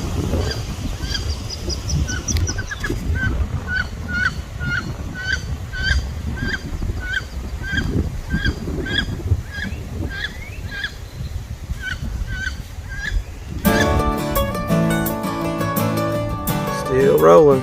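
Ducks or geese honking repeatedly near a river during kayak practice, a steady series of rhythmic calls at moderate distance over water and wind noise. Loud electronic or musical tones take over near the end.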